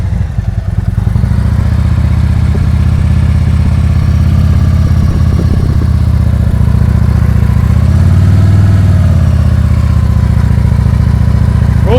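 Motorcycle engine running steadily through slow-speed riding practice in first gear, a loud, continuous low rumble with brief throttle swells and clutch-controlled dips, close and without talk.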